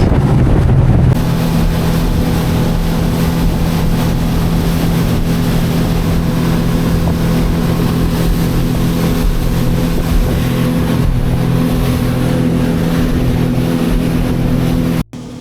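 A fast motorboat engine drones steadily and loudly up close, with wind buffeting the microphone throughout, then cuts off abruptly at the very end.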